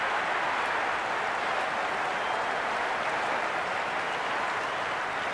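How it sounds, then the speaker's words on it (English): Dense, steady roar of a large cricket stadium crowd buzzing with excitement at an India versus Afghanistan one-day international, a continuous wash of cheering and chatter with no pauses. "There's a buzz, a real buzz coming from the stands."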